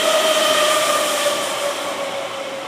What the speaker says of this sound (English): Whoa, that's a train.